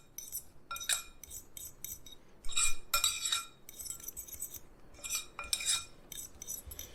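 Coconut flour and sweetener are stirred in a bowl with a utensil, giving irregular close clinks and scrapes against the bowl in short bursts, with no speech.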